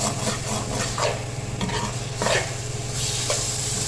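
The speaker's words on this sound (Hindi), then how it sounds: "बस अच्छी तरह मिक्स करेंगे इसको ताकि मसालों का सारा फ्लेवर आ जाए चने में" Spiced chickpeas are stirred in a pan for chana pulao, giving steady scraping strokes over a continuous close sizzle from the hot pan, with no voices.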